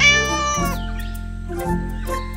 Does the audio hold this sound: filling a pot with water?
no